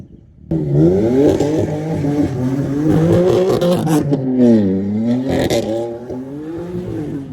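A BMW M4 spins donuts in snow during a Colorado winter storm, its engine revving hard and rising and falling in pitch as the car slides, loud and close, with light scraping underneath.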